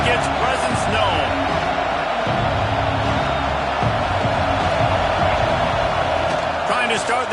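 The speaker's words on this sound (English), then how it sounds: "This crowd ready to make its presence known." Stadium crowd noise from a college football video game, a steady loud roar and murmur of a packed stadium filling the whole stretch, with an announcer's voice talking over it.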